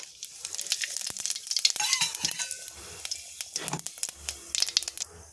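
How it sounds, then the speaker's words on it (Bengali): Cumin seeds and two dried red chillies sizzle in hot oil in a pan, crackling and popping in irregular bursts, close and fairly loud. "তেলটা গরম হয়ে গিয়েছে এখানে আমি দিয়ে দেবো ফোড়ন সামান্য জিরে আর দুটো শুকনো লঙ্কা"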